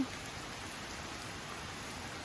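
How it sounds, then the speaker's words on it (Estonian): Heavy rain outdoors, a constant, dense rushing patter with no break, close and fairly loud. "Ägedalt sajab ikka."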